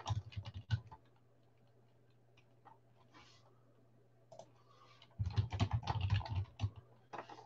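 Typing on a computer keyboard comes in two quick clattering bursts, one brief at the start and one longer near the end. A quiet pause with a steady low hum separates them.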